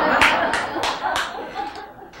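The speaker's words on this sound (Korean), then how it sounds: "그래서 이 박수가 안 나와도 일단 쳐놓고 보면" A group of people clap their hands in about four sharp, evenly paced strokes, fairly close, with chatter and light laughter running underneath.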